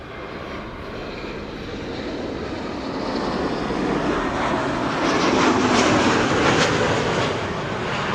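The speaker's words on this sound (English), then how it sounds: "They're flying into the runway with crosswind" An airliner landing in crosswind at Amsterdam Schiphol Airport gives a steady jet roar that swells to a peak and then eases as it passes, heard from a distance.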